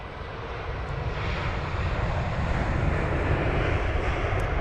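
An Airbus A321neo airliner at London Heathrow produces a steady, broad engine roar that swells slightly and holds, heard from a distance with no speech.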